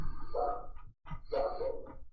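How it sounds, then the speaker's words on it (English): Dogs at home bark excitedly as their owner heads outside, two loud clustered volleys of barks close by, separated by a brief gap, with no talking. "the dogs are freaking out"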